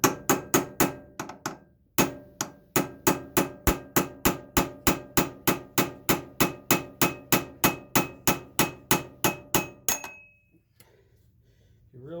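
A hammer taps steadily on the AC compressor pulley of a Subaru Forester EJ25, about thirty sharp metallic ringing strikes in an even rhythm, loud and close, with one short pause before the blows stop and quiet follows.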